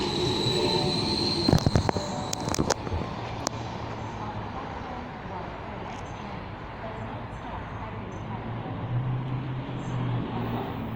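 A train passes through Loftus station, its rear four cars TA stock, with a steady rolling rumble, some sharp wheel clanks and squeal early on, then a continuous wash of rail noise as people talk nearby.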